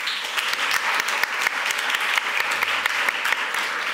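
Steady, dense audience applause after a talk at a Dutch lecture event, many hands clapping at close range and holding at an even level throughout with no voices over it.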